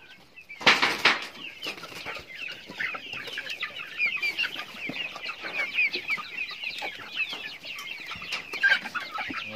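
Free-range country chickens in a small shed cluck and chatter steadily while pecking at freshly cut moringa leaves, a dense, continuous flock sound with a brief louder burst of fluttering near the start.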